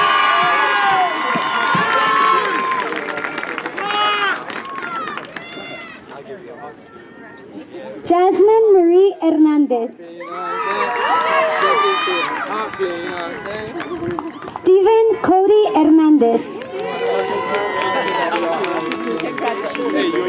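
Graduation crowd at Capital High School cheering and shouting for a graduate as names are read, loud bursts of whoops and yells rising between announcements, with talk and chatter throughout.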